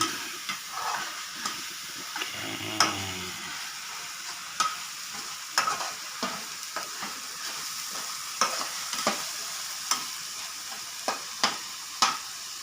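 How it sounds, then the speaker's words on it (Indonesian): Chopped onions sautéing in a hot wok for a risoles filling, a steady close sizzle broken by regular scrapes and clicks of a spatula stirring, with no talking. "Setelah tumisan bawang tadi sudah agak menguning dan aroma sudah mulai keluar dari kualinya"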